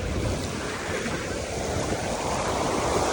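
Sea waves washing onto a beach abroad form a steady, loud roar of surf with wind buffeting the microphone throughout and no speech.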